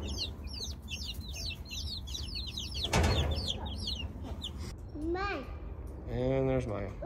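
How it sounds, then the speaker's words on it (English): Chickens cluck and crow steadily in a barn, with a voice and other talk rising briefly over the birds near the end. "Maya, leave the chicken alone."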